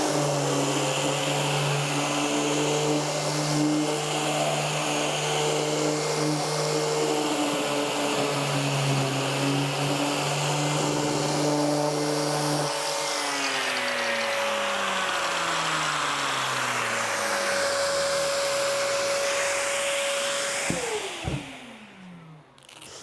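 A Metabo LF724 wood milling machine strips surfaces, its motor droning loudly and continuously with a steady tonal hum that shifts pitch partway through, then winds down abruptly near the end.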